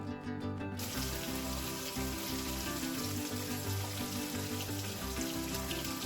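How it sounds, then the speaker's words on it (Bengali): Pieces of rohu fish fry in hot oil in a pan, giving a dense, continuous crackling sizzle that starts abruptly and stays loud and close throughout, with no voices. "এবারে মাছটা ভাজা করতে বসাবো"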